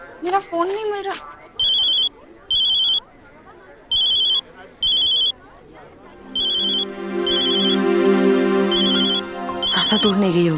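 A mobile phone ringtone rings in repeated short electronic bursts, fairly loud and close, interrupted by someone speaking, with a longer sustained tone near the end.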